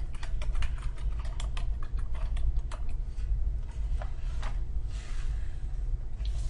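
Fingers tapping a computer keyboard to enter a book's ISBN number into a form field: a quick run of crisp key clicks in bursts, fairly close, over a steady low hum, with no talking.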